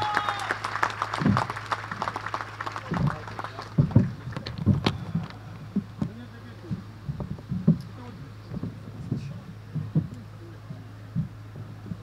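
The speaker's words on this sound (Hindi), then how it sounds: "इस्तकबाल कीजिएगा आपकी भरपूर तालियों में नवाबजादा मीर जमाल खान रईसानी" An audience claps for the chief guest, Nawabzada Mir Jamal Khan Raisani, at a formal gathering. The applause is dense at first, then thins into scattered claps with some background murmur.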